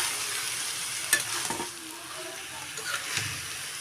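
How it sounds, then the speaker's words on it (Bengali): Cabbage and potato fry gets stirred in a sizzling pan, with a soft continuous hiss broken by a few scraping and clinking stirs of the utensil against the pan. "এই যে সবগুলো বাঁধাকপি দিয়ে দিলাম, এরপর দিয়ে দিলাম আলু ভাজিটার সঙ্গে।"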